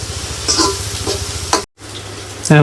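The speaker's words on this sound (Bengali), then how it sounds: "তেজপাতা দিয়ে আর কি ওটা তেলে দিয়ে আর কি ভালোভাবে সুন্দরভাবে ভেজে নিতে হবে" Whole garam masala with cardamom, cloves and bay leaf fry in oil with a close, loud, constant sizzle and crackle, a brief dropout partway through, and a faint voice-like sound near the end.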